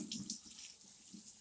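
Tap water running into a sink while rice is rinsed, a soft, steady trickle and splash with faint clinks, close by and fairly quiet, with no talking.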